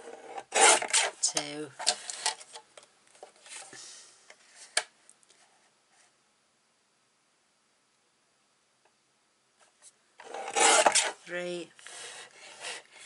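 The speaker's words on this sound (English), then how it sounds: "just cut 4 little strips off" Strips of cardstock being cut for a handmade Stampin' Up cat card give short rasping scrapes in two bursts with a quiet pause between, while a woman counts aloud close by.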